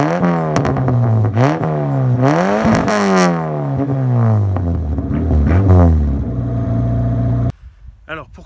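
A 1998 Peugeot 205 with a 1.4i TU engine, 75 horsepower and 1360 cc, revs up and down several times, loud and close, before the engine note cuts off abruptly.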